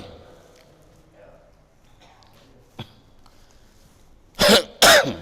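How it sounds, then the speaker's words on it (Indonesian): Two loud, close coughs in quick succession from a man giving a religious talk, following a stretch of quiet speech. "ini saya agak batuk melulu memang"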